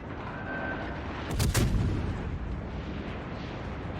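Naval guns from a cruiser battle in World of Warships Legends boom once in a heavy salvo over a steady rumbling game soundscape, the blast loud and close amid constant background roar.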